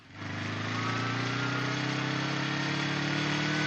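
A freshly repaired vehicle engine idles steadily and close by, a smooth low drone that starts up quickly and holds without speech.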